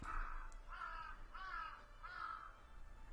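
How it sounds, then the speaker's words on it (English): A flock of crows in a shady forest caws from the OZMAFIA!! game, four harsh calls in an even rhythm, fairly faint and heard alone. "As it got closer, she could hear the sound of their cawing."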